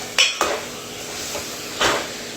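A metal utensil clanks and scrapes against a pan a few times while vegetables are stirred and tempered with green chillies, over a quiet background.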